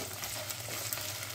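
Tomato and pepper paste fry with meat in a pan, giving a dense, continuous sizzle with a fine crackle that holds at an even level throughout the short stretch.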